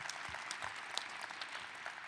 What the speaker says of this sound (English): That's a reason to clap